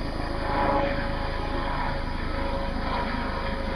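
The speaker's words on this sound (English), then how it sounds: "Yep, that's a helicopter." Helicopter rotor and engine drone heard outdoors along a marsh trail on the Palmetto Trail's Awendaw Passage, a steady throbbing hum holding at moderate level throughout without speech.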